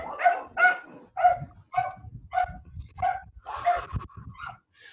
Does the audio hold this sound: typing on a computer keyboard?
no